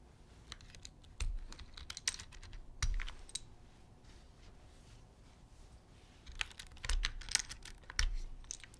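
Clattery keystrokes from a prototype mechanical keyboard during a typing test, coming in uneven bursts of sharp clicks with brief pauses between them, fairly close and alone.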